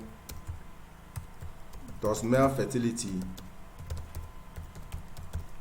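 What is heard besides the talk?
typing on a computer keyboard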